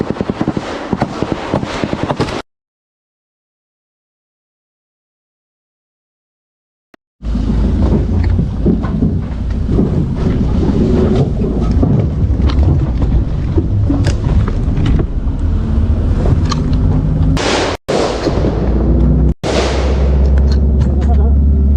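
Gunfire aimed at an armored tactical vehicle in Puncak, Central Papua: loud, close, dense bursts of shots and blasts roar on for about fifteen seconds after a brief opening burst and a silent gap, with shouting voices mixed in.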